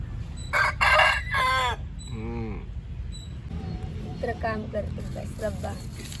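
A chicken clucks and squawks loudly at close range in several bursts, with people talking over and between the calls.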